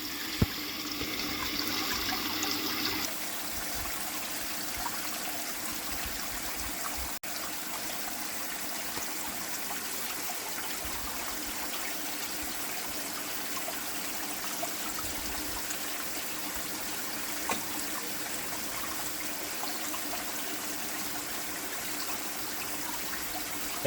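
Water runs steadily through a gold sluice in a backyard, a continuous close rushing and trickling flow with a brief louder splash at the start and no voices.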